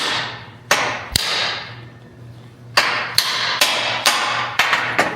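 A hammer strikes a Scout drive shaft yoke on a workbench, producing sharp metallic clanks with ringing decay: two blows, a pause, then a quick series of about six more, loud and close.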